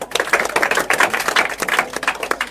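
A classroom of students claps together, a quick crowded patter of hands lasting a couple of seconds, close and lively with no talk over it.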